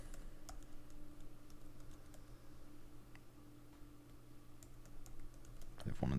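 Fingers typing on a keyboard attached to an iPad, a quiet, irregular patter of soft key clicks at close range against a low room hum, ending in a louder bump.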